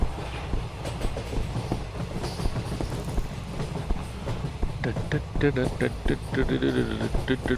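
A Vande Bharat train in a train game runs along the rails with a steady low rumble and rattling, while someone talks over the latter half.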